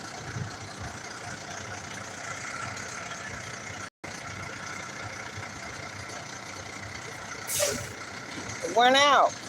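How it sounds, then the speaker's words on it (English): A city bus moves in traffic with a steady engine rumble under street noise, then gives a sharp hiss of air brakes followed by a rapid chirping beep. "That's the bus we need to catch in order to go downtown."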